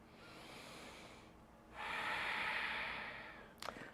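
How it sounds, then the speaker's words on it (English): A person breathes in through the nostrils and then out through the back of the throat with a rough, growl-like rasp, one quiet close breath cycle ending in a brief snort. "the breath in is through the nostrils if you can, and out through the back of the throat, which sounds like a growl or a snore"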